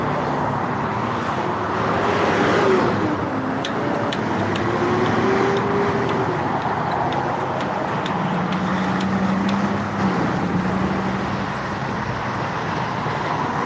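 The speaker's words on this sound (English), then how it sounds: "You can see that traffic is real high right now" Steady road traffic passing by on a busy street, a continuous broadband roar of cars and larger vehicles with engine hum rising and falling, close and constant throughout, with light clicks and rattles near the microphone.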